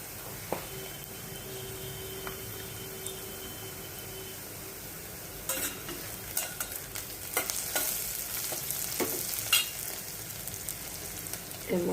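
Garlic, onion and asafoetida frying in a pan for a Bengali yardlong-bean and potato curry, with a soft steady sizzle and then bursts of scraping and clattering from stirring in the second half, close and fairly quiet.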